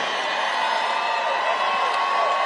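A large crowd at a Trump victory rally in Washington applauding and cheering, a dense steady roar of clapping and shouts filling the whole stretch, with a voice faintly under it.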